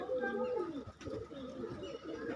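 Pigeons with eye ailments, kept for treatment, coo in soft, rolling low calls throughout, close by, with a voice speaking over them.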